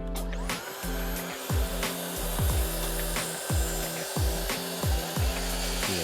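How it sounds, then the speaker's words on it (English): A 54V cordless track plunge saw cuts through thick 2x6 timber with a steady, loud motor whine and grinding blade noise that continues without slowing, broken by repeated short rasping surges. "So the track saw just glides through this thick material, it doesn't even slow down"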